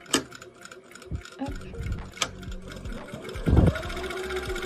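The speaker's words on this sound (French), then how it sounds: "je viens à 1 cm du bord de mon tissu et je viens piquer en faisant un point d'arrêt" Sewing machine stitching fabric 1 cm from the edge with a backstitch, a close rapid mechanical ticking and whirring with short pauses and a few louder clunks.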